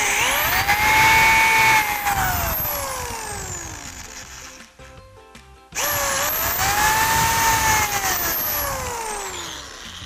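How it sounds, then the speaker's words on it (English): A power drill bores pilot holes into the base of a DIY desk caddy in two loud, sustained runs, each whining down in pitch, separated by a brief quiet pause. "we're going to drill 2 more pilot holes on the left and the right side of the base"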